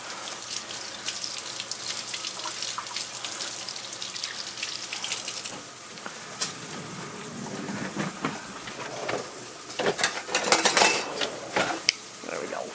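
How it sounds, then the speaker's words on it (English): Hands are rinsed under a running kitchen faucet, a continuous hiss of water with splashing that swells and sputters near the end, plus a few clinks. "I'm just going to rinse my hands"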